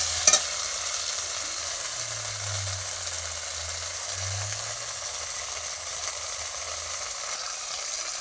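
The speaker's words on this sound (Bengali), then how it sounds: "নুন দিয়ে দিয়েছি, হলুদ দিয়ে দিয়েছি, দিয়ে ভালো করে কষিয়ে মশলাটা ভালো করে কষাচ্ছি বন্ধুরা।" Spices with salt and turmeric stir-fried in a pan with potatoes, giving a steady low sizzle with faint scraping of stirring, one sharp clink near the start, no talking.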